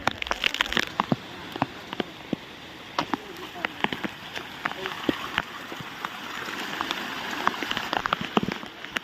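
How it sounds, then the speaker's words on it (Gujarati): Monsoon rain falls on the Girnar hills near Junagadh amid strong wind, with scattered drops pattering close by. People talk over it. "થોડો થોડો વરસાદ આવે એટલે"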